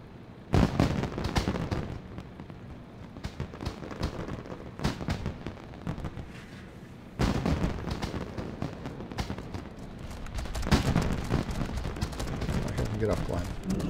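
Crackling, popping fireworks go off at the Ironforge craft fair in World of Warcraft, dense bursts of rapid bangs in several waves, while a person talks over them.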